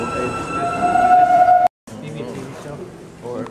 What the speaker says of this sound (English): they're not going to hear me because the train's roaring in the background.